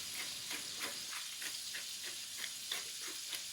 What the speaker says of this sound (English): Let these things kind of simmer away so we get a little bit of golden brown color on the pine nuts.